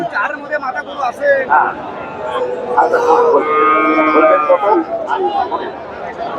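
A Friesian bull calf lows in a drawn-out moo amid the chatter of a busy cattle market crowd in Bogura, with voices talking nearby throughout.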